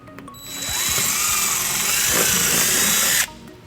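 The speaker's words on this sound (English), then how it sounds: "And then we'll drill our second hole." A power drill boring a hole for a mounting bracket on a 2015 Chevrolet Impala whirs steadily for about three seconds, spinning up and holding a high, continuous whine before cutting off abruptly; close and loud.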